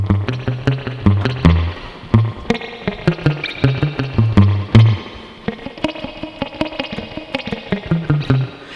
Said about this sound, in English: you're going to palm mute, just rest your palm on the strings like this and just pluck away